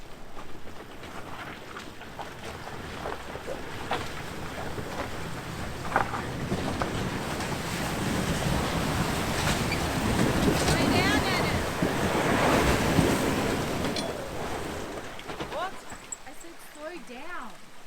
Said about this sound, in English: when I come through here it's going to make a bit of a bow wave and you're going to get water come up